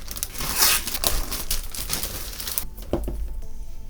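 Packaging of an Aukey keyboard crinkles and crumples as it is opened, a close, steady rustle of plastic and paper with a few sharper tearing bursts, then quieter handling toward the end.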